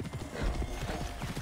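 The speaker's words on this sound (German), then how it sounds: "Mit unserem Pferdchen. Mit Plötze" Horse hooves clip-clop in steady rhythm as a horse trots along in Assassin's Creed Origins, close and moderately loud, with a faint whinny-like tone mixed in over a continuous game ambience.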